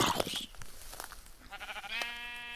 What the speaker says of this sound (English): Let's change into a sheep.